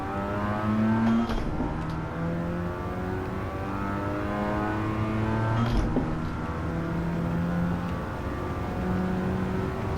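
A Mazda RX-7 FC's rotary engine buzzes steadily through a lap in Gran Turismo 7, rising and falling in pitch with gear changes and throttle, loud and continuous with no talk.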